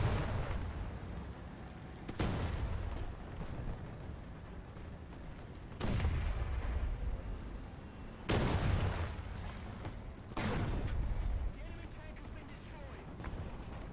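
Heavy artillery blasts in a video game, four booming broadband bursts spaced a few seconds apart, each rolling out into a long rumbling tail over steady background noise.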